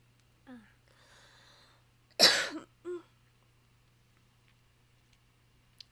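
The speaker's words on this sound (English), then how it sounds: "Sorry about the cough." A single sharp, loud cough in a quiet room, framed by a few soft breathy sounds and a faint steady hum.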